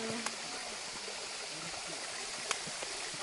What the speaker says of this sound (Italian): Guardate che cascata.